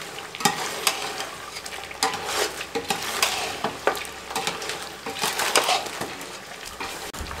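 Karahi gosht masala and red chilli frying and being stirred in a karahi for chicken karahi, a loud steady sizzle with repeated scraping strokes of the spoon, no talking.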